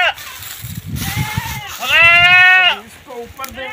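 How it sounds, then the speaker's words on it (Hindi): Goat bleating at a rural village home, a long wavering bleat standing out clearly amid people talking in the background, with shorter goat calls around it. "ये बकरी एक तो सिर खा कर रखा है"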